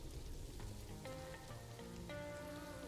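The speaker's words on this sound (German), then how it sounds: "Es liegt definitiv am Regen, wenn wir alle unter das Dach wollen." Rain falls in the zoo-building video game Planet Zoo, a steady soft patter that runs throughout beneath sustained musical tones from the game.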